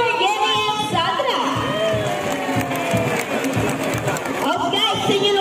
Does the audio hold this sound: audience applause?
yes